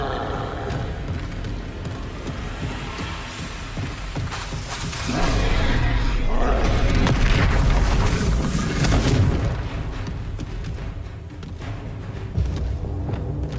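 Confringo fire-blast spell going off in Hogwarts Legacy, a dense rumbling explosion swelling to a loud peak mid-clip over continuous game sound, then easing back to a sustained roar.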